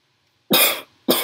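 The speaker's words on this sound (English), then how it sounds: "Coughing a bit." Two loud, close coughs from one person, the first longer and the second cut short after a brief pause, heard alone during a Minecraft UHC session.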